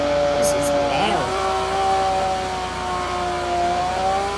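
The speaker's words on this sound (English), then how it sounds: "This is a loud car." A car engine holds a loud, steady drone with a brief rev early on, its pitch rising and sliding before settling into a sustained hum, in a Roblox video game.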